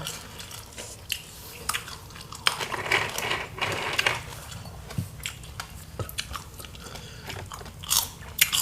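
Close-up crunching and biting on plump, crisp deep-fried sugarcane beetle larvae dipped in sauce, with repeated brittle crackles and wet chewing throughout and no talking.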